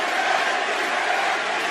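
Arena crowd in a wrestling video game, a dense, continuous roar of many voices chanting and cheering, loud and unbroken throughout.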